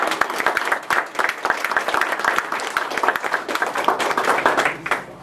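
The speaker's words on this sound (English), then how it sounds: "Big round of applause for everybody" An audience applauds at an awards show: brisk, fairly close clapping with individual hand claps distinct within the crowd, steady throughout before a brief trailing off.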